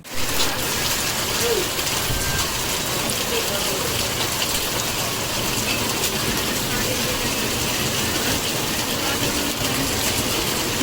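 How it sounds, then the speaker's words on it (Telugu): Heavy rain from Cyclone Ditwah falling in Satyavedu constituency, a dense, steady hiss of downpour on surfaces that stays loud and unbroken throughout. "దిత్వా తుఫాన్ ప్రభావంతో సచ్చివేడు నియోజకవర్గంలో భారీ వర్షాలు కురుస్తున్న పరిస్థితి"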